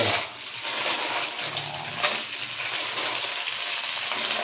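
Onion, ginger and snails sauté in a hot pan for a native-snail coconut dish, giving a steady, loud, close sizzle with faint stirring scrapes and no talking.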